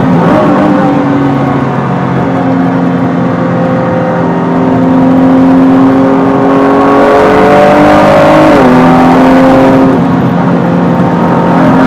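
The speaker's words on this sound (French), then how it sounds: "Allez, on reprend une légère accélération" A 2017 Ford GT engine hums steadily under light acceleration, harmonic tones gradually rising as it picks up speed, a brief dip and shift near the end, loud and close throughout.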